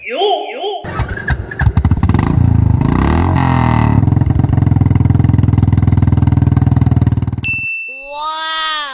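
A Royal Enfield Bullet motorcycle in a cartoon is started with the electric self-start and then revved, its engine thumping and rising in pitch under loud clanging effects, with a voice speaking at the start and near the end.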